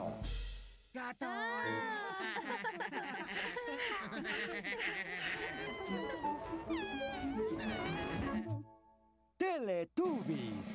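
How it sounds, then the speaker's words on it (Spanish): A cartoon cat in a Teletubbies episode meows repeatedly in high, gliding cries. Childlike chuckles and voices weave around the meows, ending in a short silence and a final burst. "¡Gato!"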